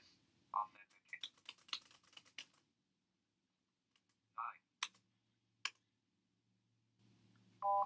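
Keys are pressed on a BrailleNote Apex braille keyboard in a quick cluster of soft clicks, then a few scattered single presses, quiet and close, with short synthetic speech feedback in between.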